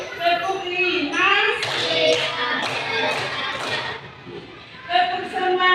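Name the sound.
class clapping in rhythm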